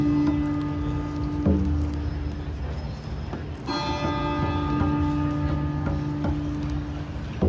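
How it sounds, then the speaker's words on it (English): Church bell ringing outdoors at a rally, steady sustained tolling with a fresh strike midway, ringing on under crowd ambience with no clear talk. "I can hear a church bell ringing."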